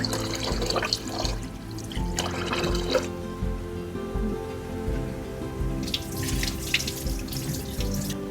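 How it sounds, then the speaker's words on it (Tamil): Rice being rinsed for a Seeraga samba biryani: water runs from a tap into a sink with splashing and dripping, continuous and close, with no talk. "அரிசியை நல்லா கழுவிட்டு அரிசியை நம்ம ஊற வச்சிடலாம்."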